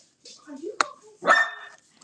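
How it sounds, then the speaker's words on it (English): A dog barks twice nearby, one sharp bark followed by a longer, rougher one, with a person talking around the barks. "Oh, my son brought the dog. I guess y'all heard that."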